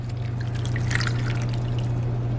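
Two cups of water poured into a pot over high heat on a home stove, a steady close splashing trickle that runs throughout with a constant low hum underneath.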